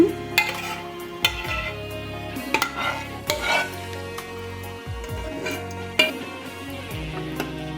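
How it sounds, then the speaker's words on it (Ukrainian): Tomatoes stirred into broth in a pot while cooking shurpa, with repeated scraping and clinking of a utensil against the pot and a few sharper knocks, loud and close, no talking. "Тепер готові помідори перекип'ячені, додаємо до бульйону нашого."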